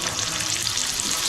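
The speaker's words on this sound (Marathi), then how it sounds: "शॅलो फ्राय करून घ्यायचा" Coated food, dusted with a rava, besan, salt and chilli mix, shallow frying on a hot tawa, giving a steady, close hiss of oil sizzling throughout with no pauses.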